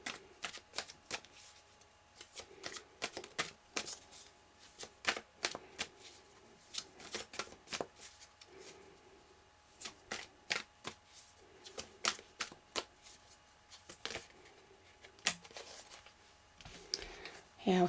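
Tarot cards being shuffled in repeated quick riffling bursts with crisp flicks and clicks, close and fairly loud, going on steadily throughout with a soft voice murmuring faintly in places.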